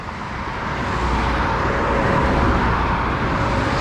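Dense, steady roar of traffic on a busy United States highway, loud and continuous with no talking.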